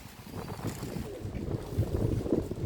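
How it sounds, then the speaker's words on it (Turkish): Steady wind rushing and buffeting against the microphone at a market in Çınarcık, a continuous low rumble with gusty swells throughout, no voices. "Çok aşırı rüzgar var."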